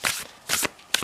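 Three quick bursts of oracle cards being shuffled and riffled, crisp papery flutters close by, separated by short pauses, with no voices.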